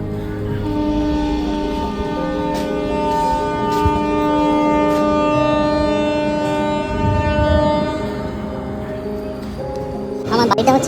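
A train stands at Dantan station with a steady, loud mechanical hum and sustained tonal drone, close by, with brief clatter toward the end.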